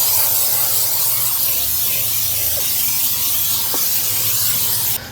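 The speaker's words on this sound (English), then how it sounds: "So I've just got some cheap, great value, non-stick cooking spray, the canola oil." Canola oil non-stick cooking spray hisses in a steady, loud, continuous burst as it coats the inside of a Pit Boss vertical pellet smoker, running almost unbroken for about five seconds before cutting off.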